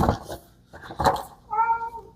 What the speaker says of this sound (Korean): 저희 야옹이가 이제 그만하라고 들어오네요.